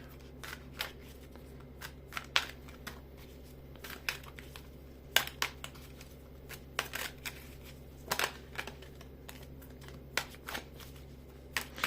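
Repeated crisp riffling bursts of a deck of cards being shuffled, close up, in quick irregular rounds over a quiet low hum.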